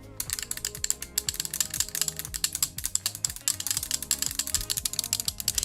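A sim racing wheel clicks in rapid, continuous ratcheting bursts, loud and close, a dense mechanical clatter with no voices.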